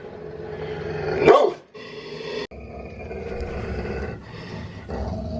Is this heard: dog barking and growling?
yes